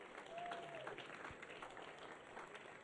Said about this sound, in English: Please, let's give her a clap offering.